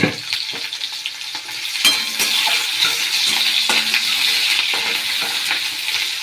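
Sliced onion and garlic fry in hot oil in a pan with a loud, steady close-up sizzle. A few clicks and stirring scrapes punctuate it, and no one speaks.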